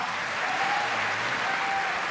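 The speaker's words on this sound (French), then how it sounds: "On peut les applaudir déjà." A crowd applauding steadily, a dense wash of clapping that holds at an even level for a couple of seconds with no voices on top.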